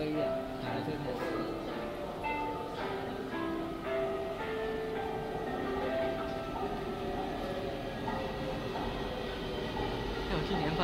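A refurbished Taipei Metro 321-series train runs on the Bannan line between Zhongxiao Xinsheng and Far Eastern Hospital, heard from inside as a steady underground rumble with rising and falling motor whine throughout.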